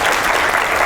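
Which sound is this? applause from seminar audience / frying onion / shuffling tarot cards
applause from seminar audience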